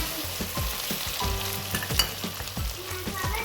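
Chicken chindhamani fries in a generous amount of oil, with a continuous close sizzle broken by repeated scraping and stirring strokes of a spoon against the pan.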